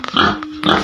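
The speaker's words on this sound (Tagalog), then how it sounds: "Bali, 4 yung baboy." A farm pig gives two short, close grunts in under a second, loud and clear with a brief pause between them.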